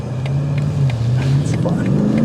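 A 2024 BMW Alpina B8 Gran Coupe accelerates hard, its engine note climbing smoothly and loud from inside the cabin, with a voice also present.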